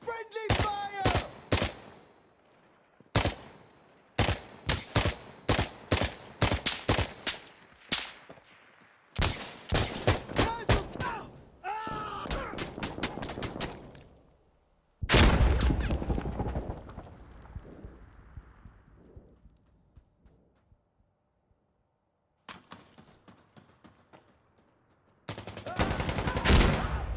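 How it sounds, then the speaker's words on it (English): Gunfire in the video game Arma Reforger: sharp, loud bursts and single shots in rapid irregular volleys, broken by short pauses, with a long rumbling echo mid-way before more close shooting. "Stop shooting me! Fuck! Friendly fire! Friendly fire!"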